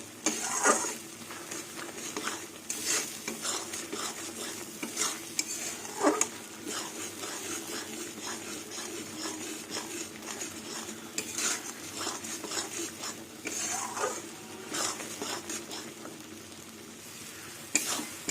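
Dal with poppy seeds being stirred in a pan, a spoon scraping and tapping against the metal at an irregular rhythm over a soft sizzle, close and fairly quiet.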